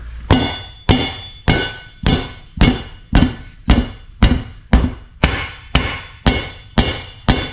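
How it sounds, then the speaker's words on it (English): A small hammer strikes a tire to break its bead from the rim, about a dozen loud, sharp metallic blows at a steady rhythm, each ringing briefly before the next. "we're going to start with the small hammer"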